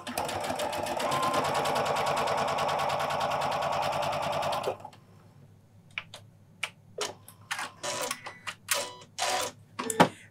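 Janome sewing machine running a steady straight stitch along a tuck with an edge guide foot, a dense continuous mechanical whir for about five seconds, then stopping, followed by scattered light handling clicks and rustles.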